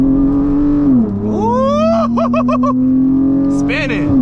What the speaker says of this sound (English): I'm gonna do like a little first gear pull.